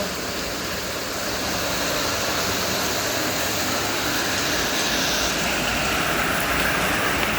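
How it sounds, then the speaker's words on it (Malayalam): Heavy rain pours down in a steady, loud, dense rush that fills the whole scene without a break. "മഴ എന്തടി ഇങ്ങനെ പെയ്യണേ"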